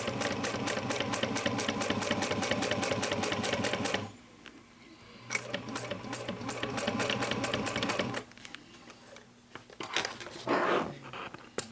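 A sewing machine top stitching a tote bag: rapid, even needle clatter in bursts of several seconds, with short pauses and faint handling noises between the runs.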